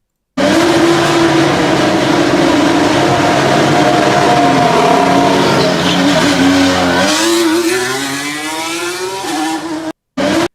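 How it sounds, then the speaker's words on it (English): Fernando Alonso's 2021 Alpine Formula 1 car with its Renault engine leaves the pits onto the track during pre-season testing, a loud, sustained high-pitched engine wail that climbs in pitch as it accelerates, then cuts briefly near the end. "That beautiful sounding Renault engine."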